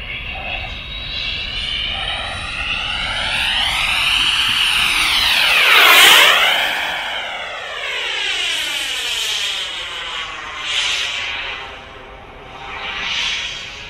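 An RC Freewing F22 Raptor jet with a KingTech turbine lands, its loud turbine whine rising as it sweeps close past with a sharp pitch-changing flyby, then fading and lingering as a distant whistling rumble.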